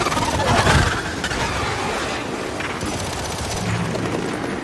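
Sustained gunfire from Gears 5 rattles loud and close: dense, continuous bursts of shots with booming impacts, heaviest at the start and carrying on steadily throughout.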